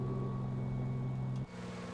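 Twin piston engines of a Grumman G-44 Widgeon amphibian climbing out after takeoff in a flight simulator, a steady droning hum with strong tonal bands that drops abruptly in level near the end.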